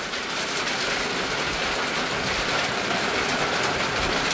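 Rain pours onto a tin roof in a dense, even roar of drumming, constant and close for the whole stretch with no voices.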